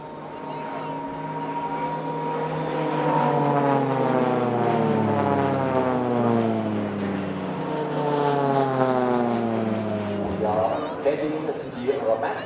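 Swiss Air Force PC-7 turboprop aircraft flying Immelmann half loops and rolls at an airshow; propeller drone swells and shifts in pitch as the planes pass and climb, loud and sustained, with a commentator talking over it.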